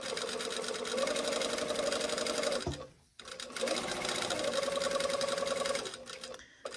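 A sewing machine sews a long gathering stitch on a sleeve a quarter inch from the edge, its motor buzzing loud and close in two long runs separated by a brief stop.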